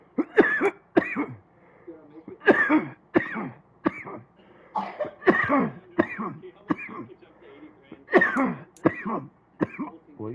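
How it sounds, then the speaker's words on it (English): Repeated coughing and throat clearing from a man, with bursts and pauses over about ten seconds, close and fairly loud, with no clear words spoken. "Well, you got me coughing."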